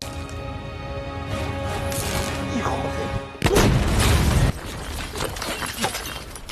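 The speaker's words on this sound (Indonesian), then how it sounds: "Ledakan itu membunuh Vasquez" A sudden loud blast bursts out over a sustained tonal drone, followed by a crashing, noisy rumble that fades into background clatter.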